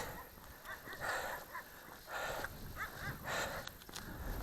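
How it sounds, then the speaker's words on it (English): Two young black dogs outdoors near a hay pile, giving short yips and barks in a few bursts over steady background noise. "There's two young black dogs here."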